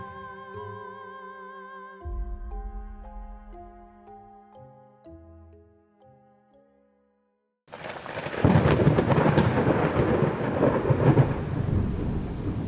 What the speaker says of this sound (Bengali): সকাল থেকে ঝমঝম বৃষ্টি কখনো জোরে কখনো ঝিরঝিরে